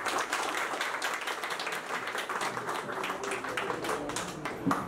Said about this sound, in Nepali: उहाँलाई एकचोटि जोरदारले ताली दिनु सक्नुहुन्छ।